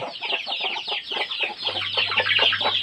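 Many chickens cluck and chatter close by on a gamecock farm that breeds chicks for sale, a dense, continuous flock of overlapping clucks with a low hum joining partway through.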